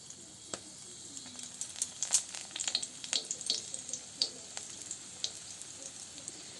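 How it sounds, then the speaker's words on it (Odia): Chilies sizzle in hot mustard oil for pumpkin leaf saag, a close, fairly quiet crackle of irregular spits and pops that grows busier midway and then thins out, with no talk. "ତେଲ ଗରମ ହେଇ ସାରିଲାଣି। ମୁଁ ଏଥିରେ ଲଙ୍କାକୁ ପକାଇ ଦେଉଛି।"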